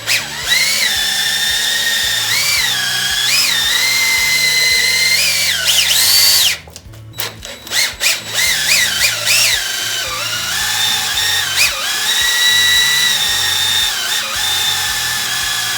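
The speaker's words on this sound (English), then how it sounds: "You start stirring it more and more and more." Power drill spinning a paddle through thickening shower epoxy, a loud continuous whine that wavers in pitch, cutting out briefly midway before starting up again and running to the end.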